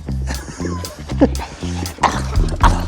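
Small dog at a home doorway barking and yipping excitedly in short repeated bursts, close and loud, with some whimpering mixed in.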